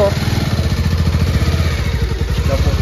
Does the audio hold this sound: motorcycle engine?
yes